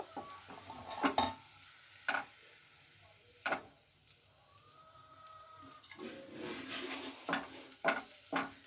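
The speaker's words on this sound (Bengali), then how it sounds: "পেঁয়াজটা আমি হালকা নেড়ে চেড়ে লাল করে তুলে নেব।" Onions stirred and fried until brown in a pan for chicken curry, a soft sizzle punctuated by irregular loud spatula knocks and scrapes, close up, with no voices.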